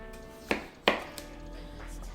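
Two crisp knife chops on potatoes against a cutting board, close and distinct, a fraction of a second apart, followed by a faint tap and quiet kitchen background.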